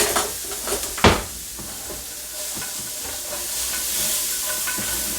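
Onions are tipped into a hot, smoky pot and hiss and sizzle steadily, opening with a few sharp clatters as they land, then settling into a continuous bright frying hiss with no talk.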